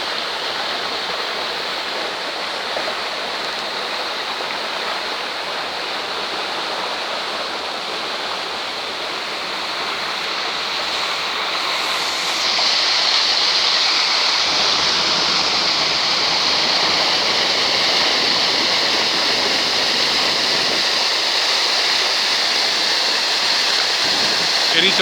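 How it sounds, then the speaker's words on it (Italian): Water from the Roggia dei Molini mill canal in Gemona del Friuli rushes steadily and close by, a loud continuous broadband roar that grows slightly stronger halfway through, with no voices over it. "ritorniamo a questo canale di acqua che scroscia"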